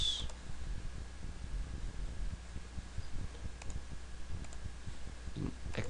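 A computer mouse is clicked near a PC during use of a Nestopia NES emulator, giving sparse, light, quiet clicks spread unevenly over a steady fan-like hum, with no talking.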